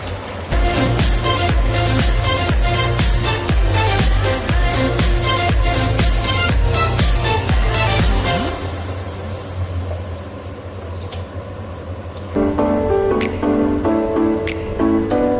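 Water and milk poured into fried rice for a salty white pulao, a rapid sizzling, bubbling rush that fades into a quieter hiss, followed by faint kitchen clinks.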